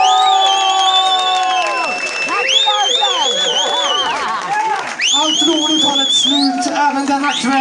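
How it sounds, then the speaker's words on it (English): A live reggae concert crowd at Akkurat in Stockholm cheers, whistles and shouts loudly, with scattered applause under the whooping voices filling the room. "Applause! Applause! Applause! Applause!"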